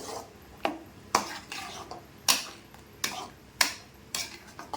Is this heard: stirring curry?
yes